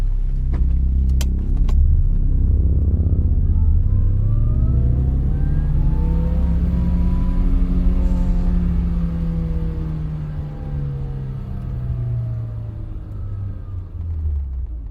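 A car rumbles close by for about fifteen seconds, with a brief jangle of keys at the start, then the engine revs up in a long rising and falling sweep as the car drives off. No one speaks.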